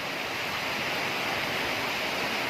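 Rain falls over rice farmland in a steady, dense hiss that stays even throughout, close and loud with no talk.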